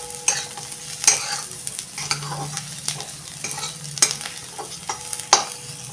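Cashews and onion stirred and sautéed in a pan for a white Kolhapuri-style rassa, with a steady soft sizzle and scraping strokes of a spoon, several sharper knocks against the pan standing out.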